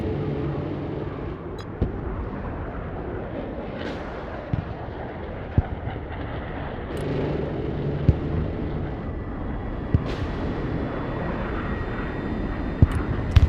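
Jet roar from an F-35 strafing run in the video game Broken Arrow, a steady loud engine rush with scattered sharp cracks of gunfire or impacts throughout.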